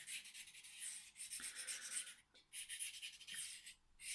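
A knife blade rubbed back and forth on a DMT diamond sharpening stone to level out a small bevel, giving close, steady raspy strokes in repeated passes with brief pauses between them.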